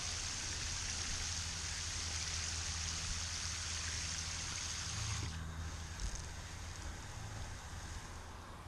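Water pouring steadily from a hose or can onto a dead rose bush outdoors, a continuous splashing trickle close by that shifts slightly partway through.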